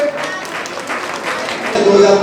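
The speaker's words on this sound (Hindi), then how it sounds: "जोरदार तालियां दिया इनके लिए।" Applause at a gathering in a Digambar Jain temple in Mansarovar, Jaipur. A crowd claps steadily and fairly loudly, and the clapping swells near the end.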